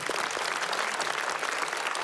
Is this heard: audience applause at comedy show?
yes